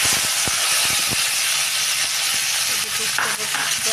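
Onions frying in hot oil for an egg, soybean and potato curry give off a steady, close sizzling hiss, with a few sharp utensil clicks early on.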